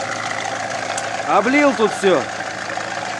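A Chery Amulet engine idles hot with a steady mid-pitched hum and faint knocking, close by, while someone talks over it throughout.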